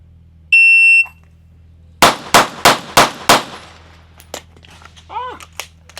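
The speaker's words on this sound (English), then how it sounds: "Shooting again." A high electronic shot-timer beep starts a handgun drill at an outdoor range, then five loud, sharp shots ring out in a quick, even string, followed by faint shuffling and a brief murmur.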